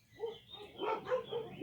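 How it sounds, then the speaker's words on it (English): Several dogs bark in a loose, overlapping cluster, somewhat muffled and distant, as if from outside. "while the dogs are barking outside"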